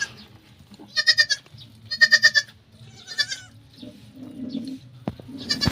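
Nearby goats, including a mother that just bore triplets, bleat in several short, wavering calls spaced a second or so apart, with a little background rustling.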